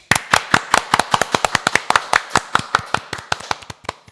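Loud, crisp hand claps beat out a fast, even rhythm at a first residents' general assembly in Hwagok-bon-dong, roughly two dozen sharp claps close by with almost no other sound.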